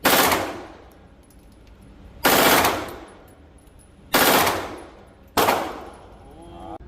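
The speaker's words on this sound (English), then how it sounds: "the MP5, you'll have 2 magazines, 25 each, so 50 rounds total" An MP5 submachine gun firing fully automatic at an outdoor range, four separate loud, close bursts, each a sharp crack with a decaying echo, spaced about two seconds apart.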